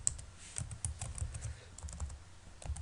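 Code is typed on a computer keyboard in quick irregular bursts of close, soft key clicks, with no talk during the typing.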